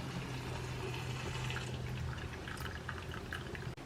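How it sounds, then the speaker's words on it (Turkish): Water poured into a pan during Sunday home cooking, a steady continuous liquid rush with a light splashy top, fairly close and alone with no talk. "Bunu da şöyle Su koyuyormuşum."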